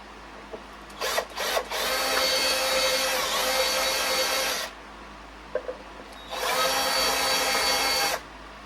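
Power drill boring into a Commodore CBM 3032 computer during repair: two loud, steady whirring runs of several seconds each, preceded by brief starts and stops, close and with no speech.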